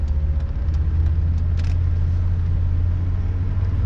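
Steady low engine drone and road rumble from a Volvo V70R wagon on the move, heard from inside the cabin, continuous and fairly loud with no talking.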